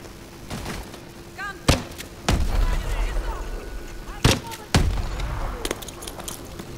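Several loud, sharp gunshots in Call of Duty: Advanced Warfare ring out at irregular intervals, each with a booming tail, amid scattered distant shots and a low background hum.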